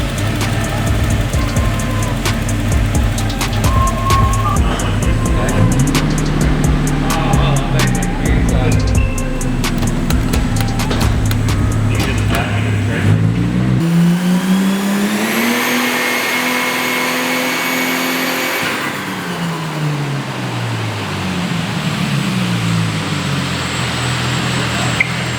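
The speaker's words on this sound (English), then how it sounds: "Couple of runs on dyno, see what it makes." Holden VL Calais with a TH400 transmission revving hard on a dyno, the engine climbing and falling through repeated loud sweeps of rising pitch, with a brief drop in the roar partway through.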